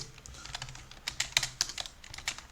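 Rapid keystrokes clatter on a computer keyboard while someone writes Houdini VEX code. The typing is close and steady, with uneven little clusters of clicks and no voices.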